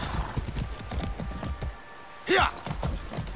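Rhythmic clip-clop of horse hooves at a steady walking pace in the video game Far Cry 6, broken briefly by a short horse whinny in the middle.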